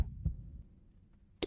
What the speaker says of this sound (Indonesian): Itu bunyi detak jantung ya?